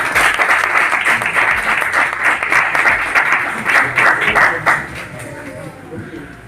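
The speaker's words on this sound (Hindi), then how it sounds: "उनके लिए जोरदार ताली होना चाहिए" Loud audience applause for Mr. Rameshwar Saini at an RCM business gathering, a dense steady wash of many hands clapping that fades somewhat toward the end, with voices mixed in.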